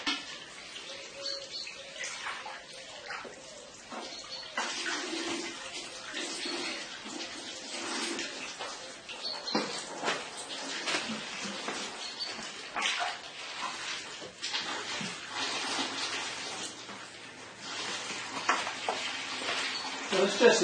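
Water from a Harrison M300 lathe's swarf tray drains into a bucket as a continuous trickling, splashing stream at moderate loudness, with no talking.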